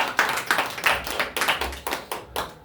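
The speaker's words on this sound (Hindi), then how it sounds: "आइए ताली मारेंगे।" A congregation at a Hindi-language Christian worship service claps hands in a steady rhythmic beat, about three claps per second, loud and near, with no voices.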